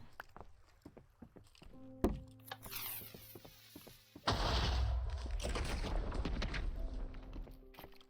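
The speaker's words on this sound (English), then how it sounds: "I don't know what that first explosion was, or if I should be worried." An explosion in the video game Minecraft bursts out as a loud sudden rumbling blast that lingers for several seconds, after a sharp earlier crack and scattered clicks and footsteps.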